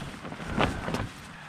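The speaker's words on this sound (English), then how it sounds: "it's windy" Gusty wind buffets the microphone on a mountain trail at 6000 feet during tropical storm Zeta, with a low rumbling roar and two louder gusts rising midway through the short stretch.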